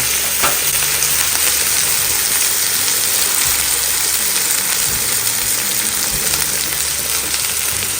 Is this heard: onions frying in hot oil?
yes